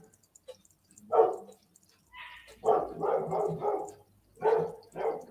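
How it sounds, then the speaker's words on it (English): Dogs bark indoors in short bursts, one bark, then a quick run of four, then two more, loud and close against a quiet room. "Apologies for my dogs barking."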